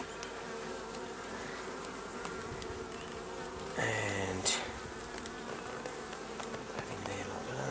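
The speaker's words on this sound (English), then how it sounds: "Very calm bees, beautiful bees." Calm honey bees at an open hive during a bottom-board change, a dense steady buzzing close by with brief louder handling bumps and a word spoken.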